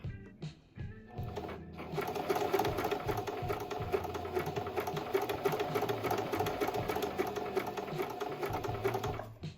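A sewing machine fitted with a walking foot runs steadily as it stitches plush minky fabric for a lovey blanket, a close, continuous rapid whir and clatter lasting several seconds after a few brief starts.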